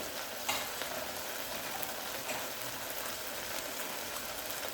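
Vegetable dum biryani spices, including garam masala, chili powder and turmeric, being stirred in a hot pan, giving a steady, even sizzle and scraping hiss with no talking.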